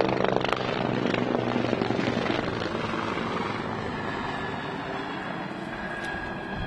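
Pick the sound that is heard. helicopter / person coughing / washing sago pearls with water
helicopter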